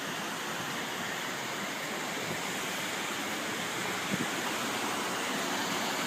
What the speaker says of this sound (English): A little bit of a weir there.